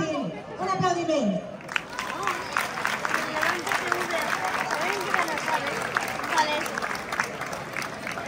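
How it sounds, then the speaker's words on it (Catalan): Crowd applause at a Moros i Cristians festival, with broad steady clapping that breaks out after a short spoken announcement and carries on amid crowd chatter. "Un aplaudiment."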